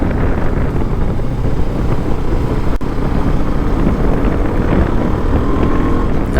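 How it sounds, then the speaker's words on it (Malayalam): Strong wind at Valparai buffets the microphone in a loud, continuous low roar that fills the whole stretch without pause. "നല്ല കാറ്റുണ്ട് കേട്ടോ."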